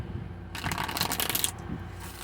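Tarot cards riffle and shuffle in a single brisk burst lasting about a second, close and fairly quiet, set against a faint room hush with no talking.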